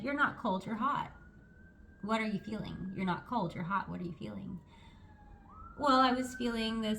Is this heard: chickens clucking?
no